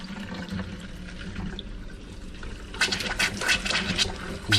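Hot water runs from a tap just opened on old pipes during an electric water heater service, starting as a soft trickle and then surging into louder, sputtering splashes.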